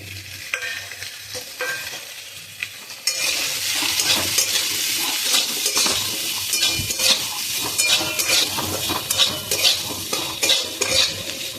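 Salt, turmeric, Kashmiri chilli powder, cumin and coriander fry in a pan with a close, crackling sizzle that swells partway through, while a spoon stirs in repeated scraping strokes.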